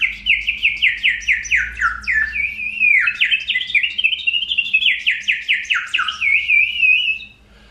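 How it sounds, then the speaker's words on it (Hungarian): A bird whistle toy, a water-filled instrument, plays a continuous run of bright warbling chirps and trills, loud and close, filling the whole passage before stopping abruptly near the end. "Az pedig a madársíp."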